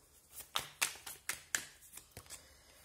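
Tarot cards being handled and shuffled, a run of about eight sharp, close snapping flicks and taps spaced roughly a quarter second apart, quiet and alone.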